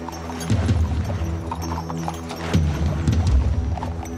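Hooves clop steadily on hard ground, several horses moving at once in a race, an uneven, rolling rhythm, fairly close and fairly loud.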